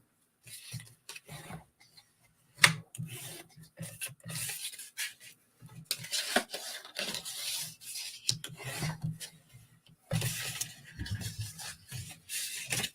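Score lines on card stock box pieces are burnished with repeated short rubbing strokes, soft and close, coming in irregular scratchy bursts separated by brief pauses.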